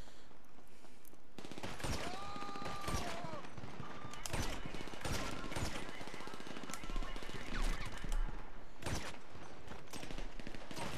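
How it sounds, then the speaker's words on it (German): Rapid bursts of automatic gunfire and single shots crackle through a GTA Online firefight, loud and repeated across the scene with overlapping volleys, while players talk over the shooting. "die schießen auf mich"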